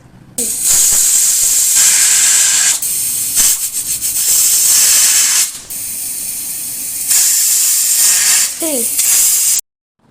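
A pressure cooker of spinach and tomato on a gas stove lets out loud, sustained bursts of hissing steam with brief pauses between them, ending abruptly in silence.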